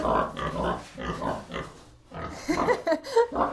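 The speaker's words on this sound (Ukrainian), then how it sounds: "Оце такі в нас зараз свині." Pigs grunt and snort close by in short bursts, with a few higher squeals near the end.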